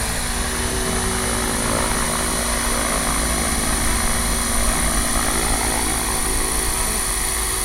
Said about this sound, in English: Just the most beautiful, stable helicopter.